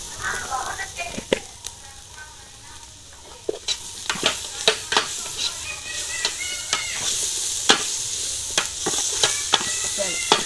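Kothu roti masala sautéing in a pan with a steady sizzle, broken by frequent sharp scraping and clinking strokes of stirring, close and fairly loud, with a voice speaking intermittently.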